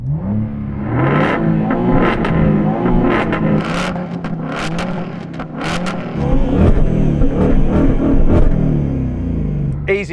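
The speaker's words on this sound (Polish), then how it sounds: "podkręć twój samochód w czasie, gdy ja będę robił to ze swoim" Car engines of a new V8 Mustang and a BMW M2 rev loudly and repeatedly, rising and falling in pitch with throttle blips over several seconds, close by.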